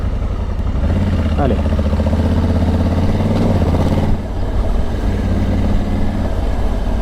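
A 2023 Honda Africa Twin Adventure Sports with DCT automatic gearbox pulls away gently, its engine humming and rising in pitch close by, while someone speaks briefly over it.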